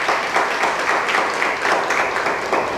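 A room full of teachers at a science training session claps together in a sustained, dense burst of applause that stays loud and even throughout.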